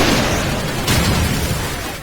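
Grenades blow up in Call of Duty Modern Warfare: a dense, loud, rumbling blast that swells again near the middle and then slowly fades.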